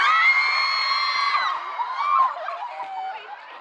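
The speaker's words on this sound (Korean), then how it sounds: "박수 들어오죠" At a 2014 birthday party, an audience breaks into high-pitched cheering and whooping, a sustained bright chorus of voices that fades into scattered shouts and clapping.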